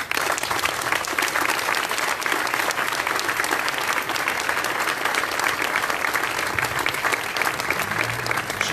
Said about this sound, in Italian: lo voglio fare pubblicamente con un applauso